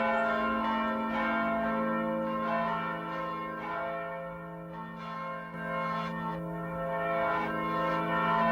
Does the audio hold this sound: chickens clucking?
no